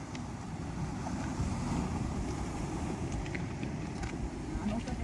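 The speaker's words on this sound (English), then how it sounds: "Watch the waves" Ocean surf rumbles and washes continuously along a Hawaiian shoreline during ulua fishing, heavily mixed with wind buffeting the microphone, with occasional voices.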